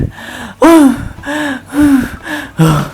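A series of sharp gasps for breath, about five of them in uneven rhythm, each a loud close-up inhale with a strained, voiced edge, breaking up a Minecraft mining session.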